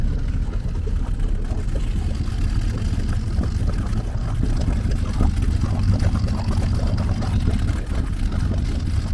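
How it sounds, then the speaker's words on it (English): Trojan 37 sport fish yacht engine with underwater exhaust, heard from outside the boat: a steady, low, continuous rumble at an even idle throughout. "Go outside, have a listen to the exhaust."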